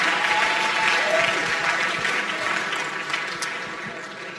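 A crowd at a chapel homecoming gathering applauds for Chet, a longtime funeral home CEO in Albuquerque, with dense sustained clapping that fades slightly toward the end.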